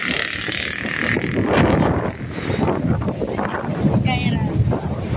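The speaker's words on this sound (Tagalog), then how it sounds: "Sobrang hangin dito." Strong wind roars and buffets the microphone in a constant low rumble on a cold hillside in Tagaytay, Philippines, with a muffled voice partly buried beneath it.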